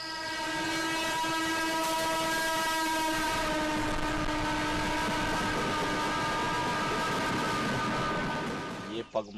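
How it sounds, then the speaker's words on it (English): A train rolls slowly along a railway line, its sustained horn ringing out loud and near over a rumbling, rattling body of wagon noise that fades near the end. "The trains then pass through this stretch of the railway line slowly"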